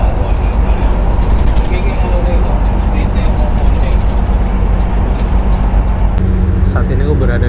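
Steady low rumble and road noise from inside a PO Mahkota intercity bus with 28 seats on a Blitar to Bogor trip, heard from the rear of the cabin as a continuous drone with faint rattles and a voice talking over it.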